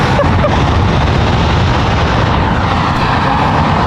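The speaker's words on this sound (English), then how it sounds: "Oh my god, there's a plane taking off." An airplane takes off at Manchester Airport with a loud, continuous engine roar that stays strong and close from start to finish, no talking over it.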